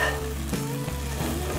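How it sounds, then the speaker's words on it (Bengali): Boiled potatoes frying in a pan are stirred, giving steady close sizzling with soft scraping and clatter, no voices. "এখন আলুগুলো সিদ্ধ হয়ে গিয়েছে, আমি একটু নেড়ে চেড়ে দিচ্ছি।"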